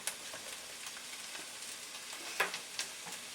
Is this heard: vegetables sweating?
yes